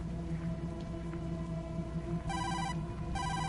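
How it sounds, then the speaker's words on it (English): Electronic telephone ringtone from the video game Tokyo Dark, two bursts of bright trilling rings cutting in over a steady ambient game music drone, loud and close with no talking. "How do I answer the phone?"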